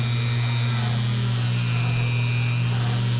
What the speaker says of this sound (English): I'll probably finish sanding it off camera